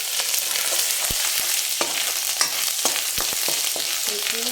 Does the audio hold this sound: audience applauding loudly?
no